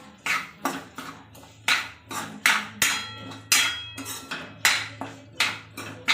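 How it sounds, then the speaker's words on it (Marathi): A ladle clanks and scrapes rhythmically around a kadhai while potato chutney is stirred, with steady metallic knocks roughly twice per second, loud and close, no voices. "कढईमध्ये फिरून घेऊया"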